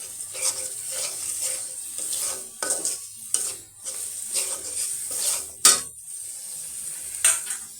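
Dried chili powder and spices stir-fried in a pan, with repeated scraping strokes of a utensil against the metal, a low sizzle underneath and a few sharp clinks, close and steady.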